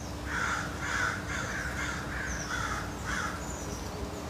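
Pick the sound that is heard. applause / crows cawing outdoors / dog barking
crows cawing outdoors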